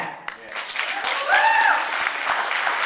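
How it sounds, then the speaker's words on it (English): An audience bursts into applause, a dense wash of clapping that swells and holds steady for a few seconds, with a brief cheer among the hands. "Round of applause for that."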